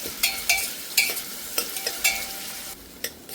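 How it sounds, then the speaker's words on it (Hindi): Sliced onions with red chili fry in hot mustard oil over a medium flame, giving a steady close sizzle broken by repeated scraping stirs of a spoon in the pan. "फ्लेम मीडियम रखेंगे और प्याज गोल्डन होने तक भून लेंगे।"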